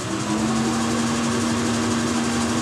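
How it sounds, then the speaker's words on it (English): A small lathe spins at 1400 RPM while a drill is fed gently into the workpiece to bore a hole, giving a steady, even machine whine and hum that holds at constant loudness. "Here's running 1400 RPM there. As fast as it goes. Gently feed this in. It's actually drilling a hole."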